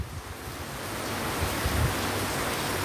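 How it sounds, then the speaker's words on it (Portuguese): Heavy rain pouring down in Recife, a dense, even hiss with low rumbling underneath that swells slightly louder midway, steady and unbroken with nobody speaking. "Tá chovendo bastante."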